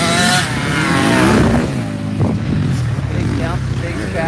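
Motocross motorcycle on a training track with tight turns and steep jumps, its engine revving and droning under wind noise while a rider talks over it.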